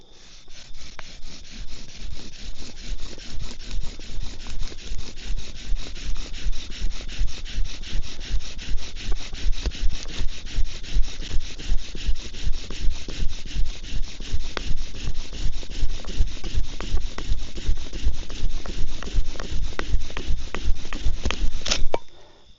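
A wooden bow drill spindle spins and burns into a socket carved from a fresh apple, a steady, loud rhythmic rasping of rapid back-and-forth strokes that runs without pause for over twenty seconds, then stops.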